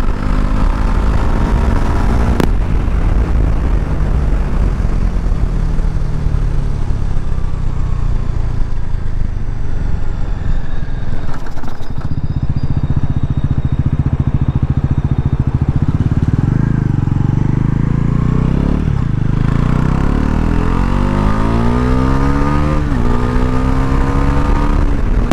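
A 2025 Bajaj Pulsar NS400Z 400cc motorcycle engine revs hard and loud throughout, rising and falling in pitch as the throttle opens and closes, with sweeping tonal climbs near the end.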